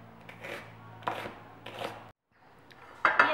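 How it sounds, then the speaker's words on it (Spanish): A knife slices half an onion into thin slices, four or five crisp cutting strokes at a steady pace, close and fairly quiet, with a brief pause before the last cuts. "Lo que vamos a hacer es que vamos a hacer unas laminitas así de cebolla"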